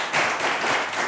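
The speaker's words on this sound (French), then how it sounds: "Merci d'applaudir Ingrid." Audience clapping at a televised talent show event, a short burst of dense applause that stays level and fairly loud for about a second.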